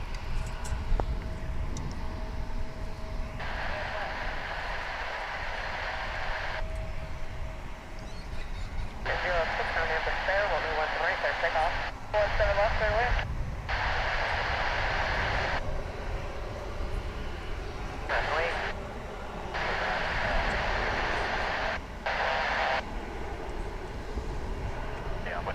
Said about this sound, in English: That United 737-9 on its way to Denver.